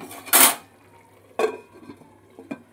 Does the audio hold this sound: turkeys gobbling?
no